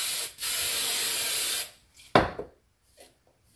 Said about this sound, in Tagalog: Lagyan ko lang ng konting ano, spray.